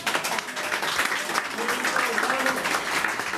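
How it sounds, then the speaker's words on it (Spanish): Applause for a newly seated council member at a Spanish-language council session, a dense wash of steady clapping from a crowd with voices mixed in throughout. "Otro que se llevó los aplausos fue Juan Esteban Guarderas"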